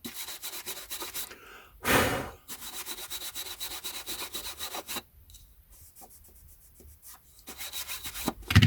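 Close, soft rubbing strokes on a first edition hardback book being cleaned, intermittent scuffing passes with brief pauses and one louder stroke early on, heard alone without talk.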